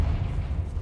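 A Confringo fire spell explodes in Hogwarts Legacy, a deep, sustained boom whose low rumble fills the moment without pause and stays loud and close throughout.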